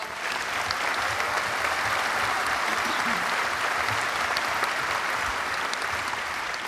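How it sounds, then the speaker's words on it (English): Steady, loud applause from a large gala banquet audience honoring two guests, a dense, continuous clapping that fills the whole stretch without pause. "Give them a round of applause."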